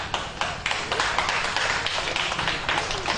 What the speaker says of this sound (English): Ladies and gentlemen, another round of applause for Tesano